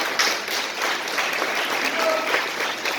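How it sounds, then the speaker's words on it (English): Steady, full applause from a crowd at a parent conference keynote, a dense continuous wash of many hands clapping at even loudness throughout. "Round of applause."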